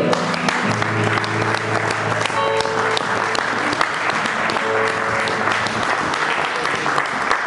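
A church congregation claps loudly and steadily in acclamation, the dense applause joined by sustained musical tones and some voices underneath throughout.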